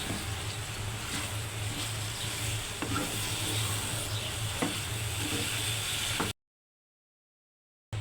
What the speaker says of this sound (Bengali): বেগুন দিয়ে দিচ্ছি ভালোভাবে একটু নেড়ে ছেড়ে